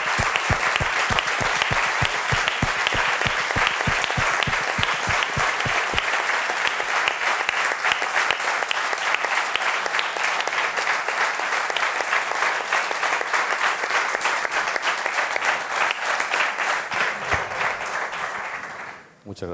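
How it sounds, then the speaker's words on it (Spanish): Sustained audience applause fills a university colloquium hall, close and dense clapping that holds steady for a long stretch and then dies away abruptly at the end. "si me acompañáis en un aplauso por su valentía y su honor"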